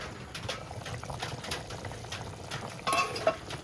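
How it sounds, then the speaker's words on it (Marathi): Wild mushroom curry with water simmering toward a boil in a pot, giving a soft continuous bubbling and liquid burble, close and fairly quiet, with a slightly louder splash of activity near the end. "हे बघा कड आलाय"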